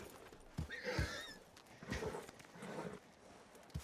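Horse hooves clip-clop in a ranch roleplay video game, a few separate low thuds spread across a few seconds, fairly quiet with faint background noise.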